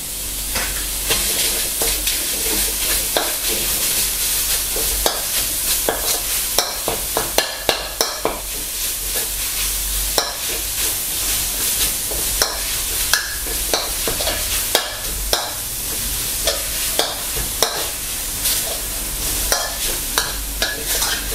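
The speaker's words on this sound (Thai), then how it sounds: "นำเนื้อหมูลงคั่วนะครับ" Minced pork is stir-fried in a hot pan for a Thai kua kling dish with stink beans, a loud steady sizzle broken by frequent sharp scrapes and clacks of a spatula against the metal.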